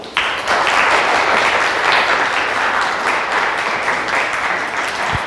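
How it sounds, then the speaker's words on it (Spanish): Audience at a science lecture gives a sustained round of applause for Dr. Barona, a loud, even wash of many hands clapping that holds steady for several seconds. "Demos un aplauso al doctor Barana"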